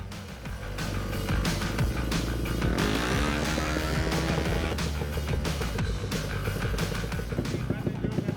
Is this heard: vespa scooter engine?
yes